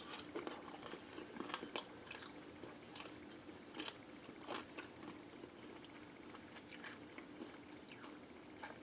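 Close, crunchy biting and chewing of a slice of Daiya gluten-free, dairy-free margherita pizza, steady mouth sounds running for several seconds with no talking.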